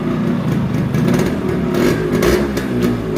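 A Yamaha RX-100 two-stroke motorcycle engine idles and revs unevenly. Its carburettor still needs tuning. The engine is loud and close and runs continuously throughout, with no one speaking.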